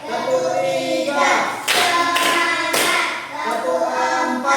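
Rhythmic tepuk semangat clapping routine in an Indonesian primary-school setting, with sharp clustered hand claps in patterned bursts over sustained voices chanting or singing along.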